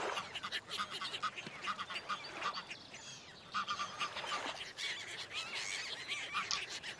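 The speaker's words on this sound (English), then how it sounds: "I can hear the ducks, but I can't see the ducks." Swimming ducks in Forest Ranger Simulator give off bursts of quacking and honking calls, some overlapping, fairly close against a steady background hiss, with a short lull midway and no voices.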